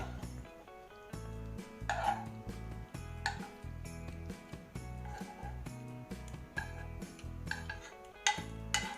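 Pork larb poured from a pan onto a plate in a home kitchen, with quiet metallic clinks and scraping taps of a utensil against cookware, scattered and irregular.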